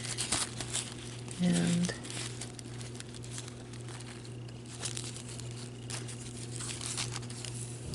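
An old plastic bias tape package being handled, with soft, intermittent crinkling close by under a woman's speech and a steady background hum.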